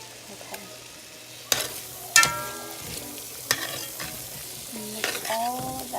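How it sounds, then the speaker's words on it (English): Ground beef sizzles in its own grease as a utensil scrapes and stirs it around the pan, with sharp clanks and scraping strokes over a steady crackle, close by and loud. "take my entire plate of beef and drop it in there"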